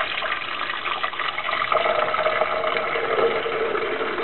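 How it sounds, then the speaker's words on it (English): Water poured into a coffee maker's reservoir, a steady gushing fill that rises slightly in pitch as the tank fills, heard alone and up close. "And then, we're going to put some water."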